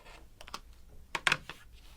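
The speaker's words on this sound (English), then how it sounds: "take my rotary cutter and trim this off" A rotary cutter trims quilt fabric in a few quick, crisp slicing strokes close by, with sharp clicky bursts against the cutting mat and no talking.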